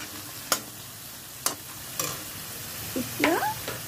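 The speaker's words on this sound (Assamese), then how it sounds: "জিকা আৰু আলু একেলগেও দিব পাৰি মই অকণমান ফ্ৰাই কৰি লৈছোঁ" Ridge gourd and potato frying in a pan, with a few sharp utensil scrapes and clinks spaced through a steady low sizzle, close and moderately loud.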